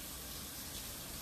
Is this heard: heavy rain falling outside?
no